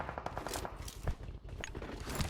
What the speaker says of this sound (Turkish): Önümden sıkıyorlar ve M24 mi sıktı AVM mi sıktı diyeceğim.